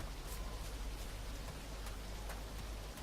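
Steady rain falls in the survival game DayZ, set on the island of Namalsk, a continuous soft hiss with scattered faint droplet ticks, close and unbroken, with no voices.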